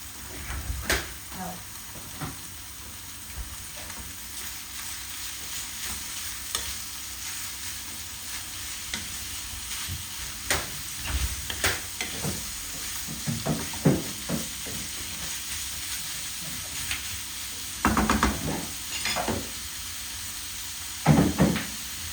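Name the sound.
ground meat frying in a pan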